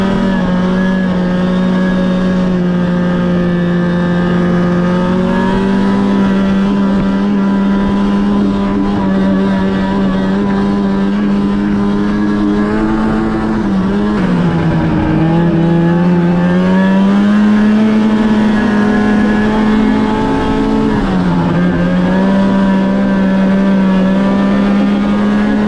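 A 2005 Arctic Cat F6 snowmobile engine, low on cylinder compression, holds a loud steady drone at speed above 80 km/h, its pitch dipping and recovering twice as the throttle eases and returns.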